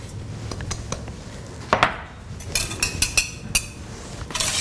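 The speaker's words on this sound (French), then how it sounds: "On va fouetter juste comme ça pour bien dissoudre le sucre dans les jaunes d'œufs." Egg yolks and sugar are whisked in a bowl for a no-bake crème brûlée, with irregular close clinks and taps of the whisk against the bowl and brief scraping strokes.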